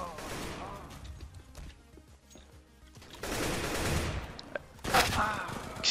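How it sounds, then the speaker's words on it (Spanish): Rapid bursts of gunfire in the Roblox game cb:ro crackle in volleys, loud and close, with a brief lull in the middle before heavier shots resume. "Ellos disparan y dan los tiros."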